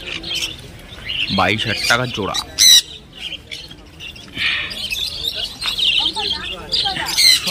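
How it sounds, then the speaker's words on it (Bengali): Sun conures at a Sunday bird market in Dakshineswar let out sharp, repeated squawks and chirps, some near and loud, mixed with people talking nearby. "তো এখানে দেখতে পাচ্ছেন সুন্দর সুন্দর সানচিক আছে,"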